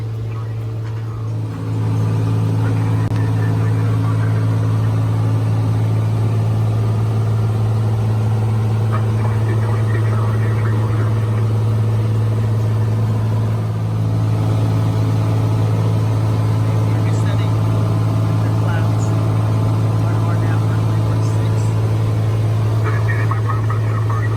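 A Cessna 182 cruising at 5,000 feet on a flight in Washington, heard as a steady, loud, unbroken engine drone with a strong low hum that holds level throughout, no voices over it.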